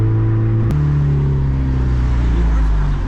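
A turbocharged stick-shift Honda Civic with a factory K-series engine pulls hard in a roll race, its loud, steady engine drone filling the cabin with a brief sharp jolt early on as it accelerates.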